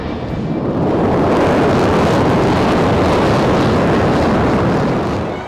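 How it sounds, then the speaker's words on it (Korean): A fighter training jet's engine roars loud and steady just before takeoff, a dense broadband blast that builds and holds without a break. "이륙 직전의 엔진 소리는 어마어마합니다"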